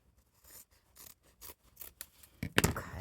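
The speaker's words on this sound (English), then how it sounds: "I'm thinking I'm going to need to kind of cut this back" Scissors snip through soft journal cover material in a series of short, separate cuts that grow louder and denser toward the end, close and clear, with no talking.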